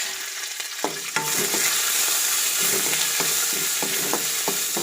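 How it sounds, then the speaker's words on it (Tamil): Whole curry leaves drop into hot oil for a spicy hotel-style chutney, bursting into a loud, steady sizzle and crackle that holds close and continuous after a few quieter stirring taps. "கருவேப்பிலையை அப்படியே முழுசாக போட்டுக்கோங்க"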